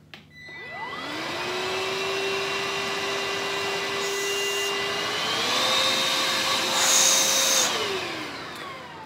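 A Beldray Cordless Quick Vac Lite with its stair attachment whirs up quickly and holds a loud, steady motor whine close by, with its pitch stepping up briefly partway through before winding down at the end, and no talking.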